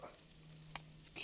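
Garlic sizzles faintly in a hot pan, a soft steady frying hiss with a small clink partway through.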